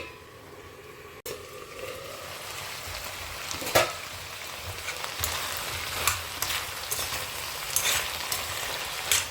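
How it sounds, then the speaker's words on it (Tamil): Ingredients sautéing in a pan, a continuous crackling sizzle with intermittent scraping stirs and small spatters, steady and close throughout, no voices. "கொஞ்ச நேரம் வதங்கட்டும்"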